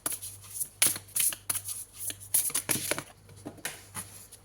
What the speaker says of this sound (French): Allez, on prend une troisième carte.